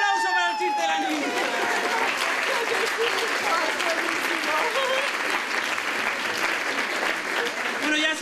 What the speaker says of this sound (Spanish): un fuerte aplauso para el chiste de la niña.